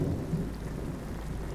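Steady rain falls with a deep, continuous rumble of thunder beneath it, forming an unbroken wash of storm noise with no voices.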